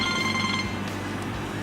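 Phone ringtone of an incoming call played through a vehicle's Bluetooth audio system, a steady electronic ring with sustained tones filling the short moment alone, no talk over it.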